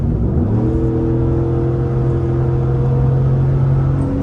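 Ford F150 truck with a 5.0 engine accelerating hard, a loud, close, rising engine roar that climbs steadily in pitch over a few seconds with no talk.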